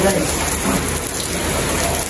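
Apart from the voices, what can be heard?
rain falling while people bathe outdoors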